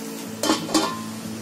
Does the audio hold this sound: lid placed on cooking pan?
yes